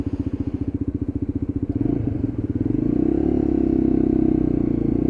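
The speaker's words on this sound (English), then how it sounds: "nice little burble from that 125 engine" Lexmoto LXR 125cc Euro 5 motorcycle engine idling at traffic lights with a rapid, even burbling pulse, then rising into a smoother, louder rev close by, with no talking.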